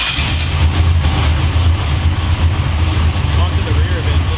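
A 632ci big block V8 fed by a Holley Dominator 1250 carb in a 1970 Pontiac Firebird pro touring car, running loud and close with a deep, heavy rumbling idle throughout.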